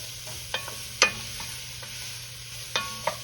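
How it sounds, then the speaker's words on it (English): Onions sweat down in a pan with cabbage and garlic nearby, a quiet soft sizzle broken by a few sharp utensil clicks and scrapes of stirring, with no talking. "we're gonna kind of sweat these onions down just a little"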